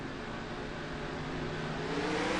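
Sprint car engines roaring together at the green-flag start of a racing video game round at Canandaigua, a dense, steady, loud drone that swells slightly as the pack accelerates, with no talking.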